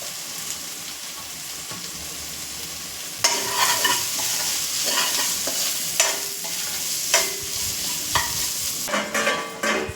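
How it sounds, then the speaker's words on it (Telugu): Carrot, capsicum and cabbage stir-fried in a pan for chicken fried rice, a steady hiss of frying with loud scraping stirs that start partway through and repeat every second or so, close up and without talk. "తర్వాత క్యారెట్ క్యాప్సికమ్ క్యాబేజీ ఇవి కూడా వేసుకోవాలండి ఎక్కువ ఫ్రై అవ్వాల్సిన అవసరం లేదు కొంచెం మీడియంగా ఉంటే చాలు"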